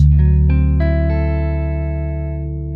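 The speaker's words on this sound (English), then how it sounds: "You can hear a bit of spring reverb on that guitar." A Fender Musicmaster electric guitar plays a few notes that ring out, each trailing off in a shimmering, slightly splashy spring reverb tail.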